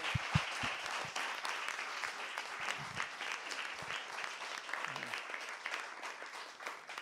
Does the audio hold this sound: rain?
no